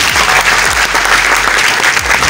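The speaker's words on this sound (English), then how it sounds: "Please give yourself a round of applause." Audience applause fills a university auditorium, the JM Ade Ajayi Auditorium, during a morning orientation, a dense, loud wash of many hands clapping continuously throughout with no one speaking.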